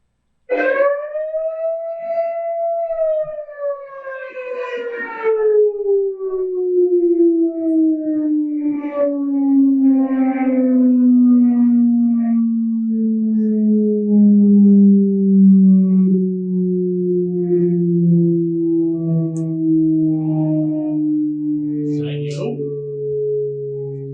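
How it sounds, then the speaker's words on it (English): A fire department siren plays back as one long, loud, continuous wail that rises at first and then slowly falls in pitch for over twenty seconds. "and that is the siren."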